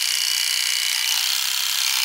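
The pop-up trimmer on the back of a Philips HQ7140 electric shaver buzzes continuously up close, a dense, even high-pitched whirr with no pauses or voices.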